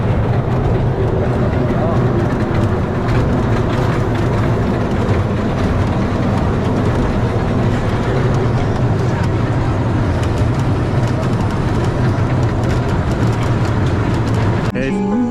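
A small ride-on train at Chootad Beach, Kannur, rumbles and clatters continuously at close range, a loud steady mechanical drone with murmuring voices in the background.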